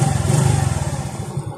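A Suzuki Smash 115 motorcycle with a battery fault idles close by, its single-cylinder engine putting out a steady, loping thump that slows and falters slightly toward the end, with no one speaking.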